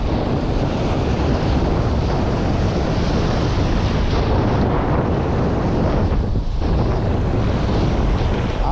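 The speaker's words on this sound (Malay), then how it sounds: "Angin." Wind gusts roar steadily across open water during shrimp netting, the blustery rush continuous and loud with surf-like wash and heavy buffeting on the microphone.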